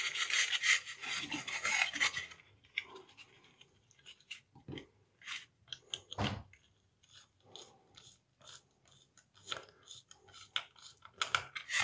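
Tiny screws are driven into a Styrodur foam block inside a kayak, giving rough rubbing and rasping squeaks in short irregular bursts, close and fairly quiet, with a louder scraping stretch at the start.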